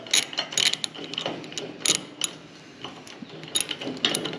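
A wrench works an adjusting bolt on a metal ATV lift table, giving a series of close, crisp ratcheting clicks in irregular bursts.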